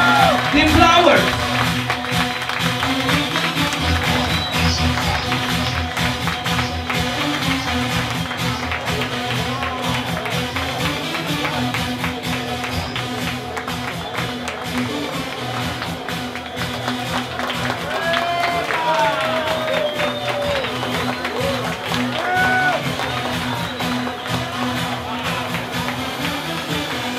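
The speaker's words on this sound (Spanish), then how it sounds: "Que se escuche el aplauso para la señorita Atlántico, Angelina" An audience at a Colombian beauty pageant's fantasy-costume round keeps up steady applause and cheering across the hall, with an announcer talking over the crowd in a reverberant venue.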